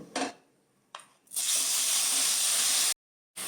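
Ground onion paste with green chilies hits hot oil for a Bengali fish-head michuti dish, bursting into a loud, steady hiss that holds for about a second and a half before cutting off abruptly.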